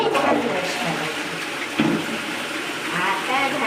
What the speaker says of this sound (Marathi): हा जोरदार जेटचा फवारा आपण त्या घाणीवर मारायचा आणि पुन्हा एकदा फ्लश करायचा